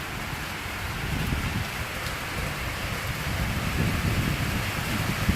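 Rain falls on a small-town RV as a steady, dense hiss of drops, even and close, with a low rumble beneath it.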